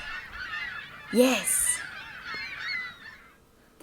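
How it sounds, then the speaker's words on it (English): Geese honk loudly outdoors during a walk in a forest, with one strong nasal honk followed by softer overlapping calls that trail off. A person speaks one brief word. "Do you hear the birds?"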